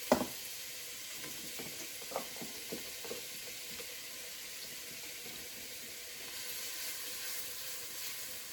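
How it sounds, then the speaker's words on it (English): Onions sizzling in a soup pot with meat and zucchini, a faint steady frying hiss with a few soft clinks and stirring taps early on, close and quiet with no talking. "Now you want to let these onions cook until they're like golden brown, translucent in color almost."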